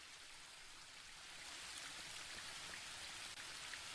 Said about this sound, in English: The waterfall and I have been neighbours for so long that I don't really hear it anymore.